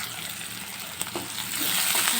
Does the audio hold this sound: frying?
yes